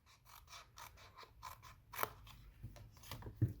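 Paper card stock being cut with scissors for a Valentine treat box: a quiet series of close crisp snips and crunching cuts in an uneven rhythm, with no talk.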